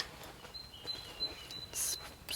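A few faint high bird chirps at an allotment in winter, brief and distant over a quiet background with a soft rustle, no voices.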